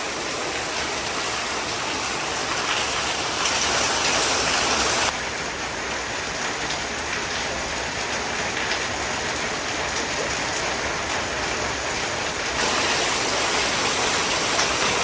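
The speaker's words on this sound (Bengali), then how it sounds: "একদম এক লেভেলে বৃষ্টি হচ্ছেই" Steady rain pours down in an even, continuous hiss that holds at the same level throughout, with no voices over it.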